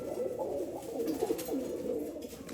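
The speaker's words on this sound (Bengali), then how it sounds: "আজকে আপনাদের কিছু কথা বলবো এবং একটি কবুতর দেখাবো কবুতরটা দেখেন" Pigeon cooing continuously at close range, a steady layered murmur of soft coos with no speech.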